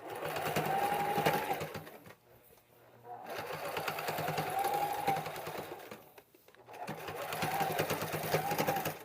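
Sewing machine stitching an oven dress towel closed, running in three steady bursts of rapid mechanical chatter with brief pauses between, close and fairly loud.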